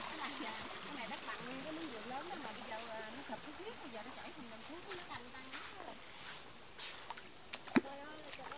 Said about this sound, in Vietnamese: các bạn thấy suối chảy